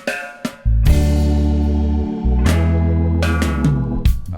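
Bass guitar playing a reggae bassline that moves between fifths and root notes, with deep sustained notes in a loose rhythm, some short plucked attacks and brief gaps, loud and close with no talk.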